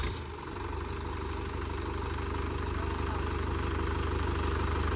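A tractor engine catches and settles into a steady, loud, close idle with an even low throbbing that holds without a break.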